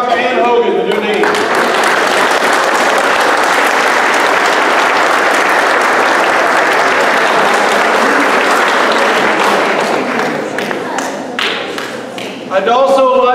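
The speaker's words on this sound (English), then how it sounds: "let's give a great big round of applause for Dr. Ann Hogan, the new dean" Loud, full audience applause welcoming a new university dean at a University of Memphis event, a thick sustained roar of clapping that thins near the end as a voice breaks in briefly at both edges.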